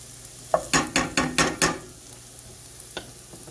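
Meat drops into a pan of browned onions for tourtière, setting off a short run of about five loud, rhythmic sizzling bursts, then a quieter simmer with one later crackle.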